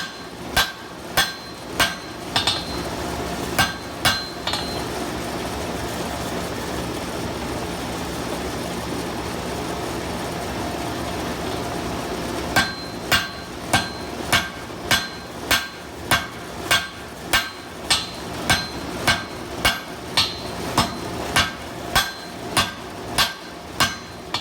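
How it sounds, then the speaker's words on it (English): Hand forging bolt tongs as a hammer sets down the bolster: a series of sharp ringing blows on hot steel, then a pause filled with a steady roar, then a long run of evenly spaced strikes. "That'll allow us to then be able to go on and start forging down the bolster after that."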